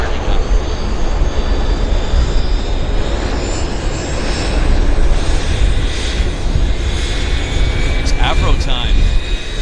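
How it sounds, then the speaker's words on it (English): Airliner engine spooling up at Vancouver Airport, a steady broad roar with rising whine tones and a brief higher chirp near the end, with talk heard over it. "It's our Airliner that's starting up."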